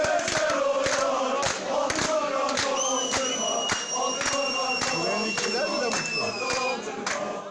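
Black-and-white Beşiktaş football supporters chant in unison inside the echoing corridors of the Istanbul courthouse, a loud rhythmic crowd roar punctuated by regular claps or stomps.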